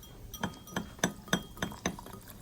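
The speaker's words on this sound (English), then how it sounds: "I'm just going to whisk that in" A whisk clinks against the sides of a glass bowl while flour is stirred into a slurry, six or seven sharp, evenly spaced taps up close with no talking.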